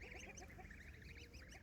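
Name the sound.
goslings honking on a farm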